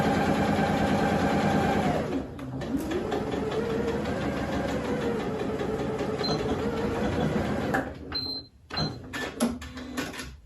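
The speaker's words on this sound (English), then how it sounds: "And we're just sewing across here." Sewing machine running steadily while stitching across a face mask seam with a 1/4 inch seam allowance, a loud continuous motor whir for about eight seconds, then stopping with a few short bursts and handling noises.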